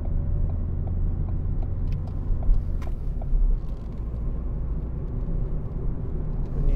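A 2017 Ford Fiesta 1.5 TDCi Zetec three-door diesel driving around a roundabout, a steady low engine drone and road rumble heard from inside the cabin, constant and fairly loud.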